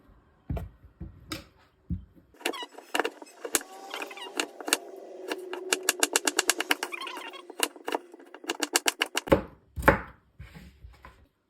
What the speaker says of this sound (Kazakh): Сәбізімізді алып турап аламыз.